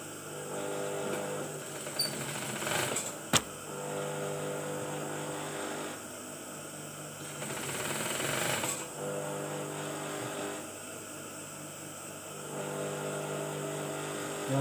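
A sewing machine stitches a batik shirt in several bursts of whirring, with a brief mechanical clunk and short pauses between runs, close and clear with no talk.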